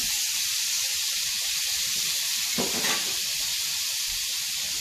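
Butter melting into bacon drippings in a cast iron skillet gives a steady, close, hissing sizzle with one brief swell of crackle midway, and no talk.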